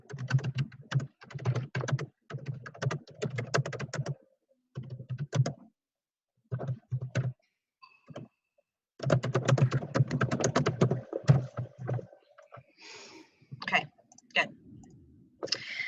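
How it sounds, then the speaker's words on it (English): Rapid clicking of a computer keyboard being typed on, close and clear, in bursts separated by short pauses, with a few faint background sounds toward the end. "I'm typing this up for you guys for the violet flame."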